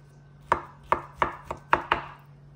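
Knife chopping avocado for guacamole on a cutting board in a home kitchen, six crisp close knocks in an uneven rhythm over a faint steady hum, no talking.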